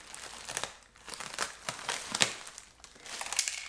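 Plastic wrapping around a book package is cut open with scissors and crinkled, giving close, irregular rustling and crackling bursts across a quiet room.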